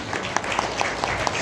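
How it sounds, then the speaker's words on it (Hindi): A crowd gathered for an early-morning yoga session applauds, a moderate, even patter of many hands with a few sharper claps standing out, no talking over it. "एक बार ताली बजाइए अपने लिए।"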